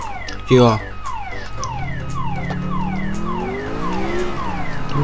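A car alarm cycles through repeating rising and falling electronic wails in the video game GTA IV, loud and steady, with a brief horn-like blast near the start and people talking over it.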